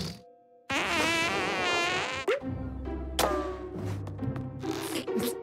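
A cartoon fart sound effect erupts loud and long with wobbling buzzy tones, followed by shorter sputtering bursts amid other comic sound effects, with no talking.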